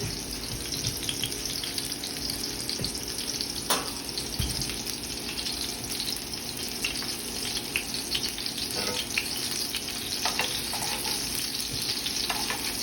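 Breaded pork chops sear in a pan over a high flame, giving a steady, close sizzle with occasional faint clinks and scrapes and no talking.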